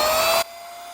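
A Tesla Vac cordless handheld lithium-ion vacuum cleaner whines loudly and steadily while picking up trash, then cuts abruptly to a much fainter hum.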